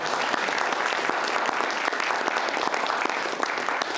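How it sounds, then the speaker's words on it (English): Steady audience applause for a panel of artists, an even, dense patter of clapping hands at moderate loudness that holds throughout without voices over it. "Let's give them a round of applause."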